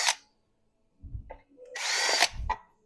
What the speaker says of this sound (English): And drill out the rivets.